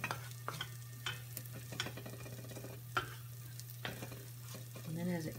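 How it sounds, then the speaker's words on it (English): Beaten eggs scrambling in a pan, with a spatula scraping and stirring in irregular strokes over a faint, steady sizzle and a constant low hum. "Stir it and chop it and scramble it."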